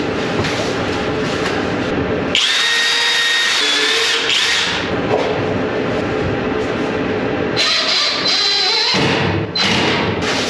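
A power drill with a Torx bit drives screws into wooden furring strips, with whining bursts of the motor rising and stopping in a few separate runs, close by and loud against a steady background hum.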